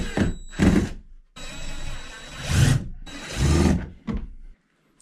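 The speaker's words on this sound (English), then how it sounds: "now we're just going to put drywall screws into our supports on our patch" Drywall screws driven into wooden supports behind a drywall hole patch, several separate bursts of close screw driving with short pauses between them.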